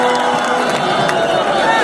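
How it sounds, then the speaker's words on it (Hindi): A large concert crowd at a live Bhojpuri music show in Kolkata fills the air with dense, continuous clapping and cheering, steady and loud throughout with no pauses. "एक बार ताली बजा के आशीर्वाद आप सब दे दीजिए।"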